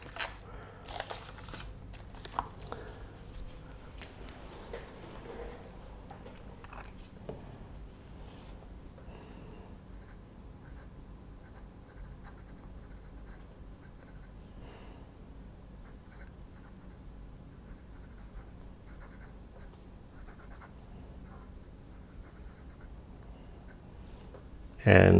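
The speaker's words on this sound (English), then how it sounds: "So I'm going to do a little bit of writing." A Nakaya Portable Writer fountain pen in aka-tamenuri lacquer scratches softly across paper with faint, close strokes. The scratching is quiet and continuous, with a few sharper handling taps near the start and a brief louder bump at the very end.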